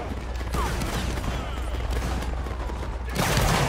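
Musket volleys in a Napoleonic Wars battle game crackle as a dense, ragged fusillade, with a louder burst of massed firing closing out the short stretch.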